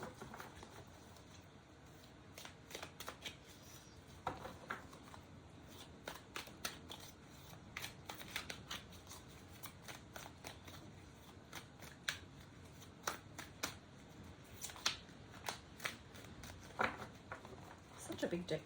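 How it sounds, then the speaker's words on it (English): A large deck of tarot-style cards is shuffled by hand in a quiet room, soft repeated riffling and patting bursts in an irregular rhythm, faint and close, without speech. "Such a big deck to shuffle."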